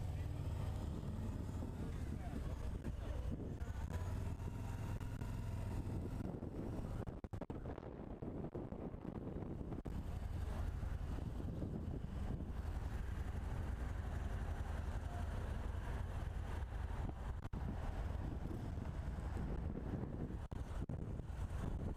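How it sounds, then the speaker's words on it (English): Harley-Davidson V-Rod motorcycle on a ride, a continuous low engine drone buried under heavy wind buffeting on the microphone, with a short dip in intensity midway, and talking over it at times. "I'm testing out the Harley-Davidson V-Rod."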